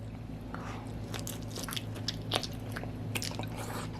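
Close, wet chewing of octopus, with soft squishy bites and occasional crunchy clicks in an irregular rhythm over a low steady hum.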